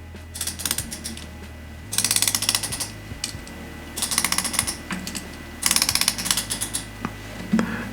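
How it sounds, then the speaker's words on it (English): Bezel of an NTH dive watch turned by hand, giving four bursts of rapid, tight ratcheting clicks separated by short pauses, close up and crisp. "very, very tight bezel, but very good sounding bezel on that NTH"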